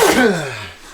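A cameraman sneezes once, loud and close, a quick burst that tails off, inside a 2020 Keystone Montana High Country fifth-wheel RV during an orientation.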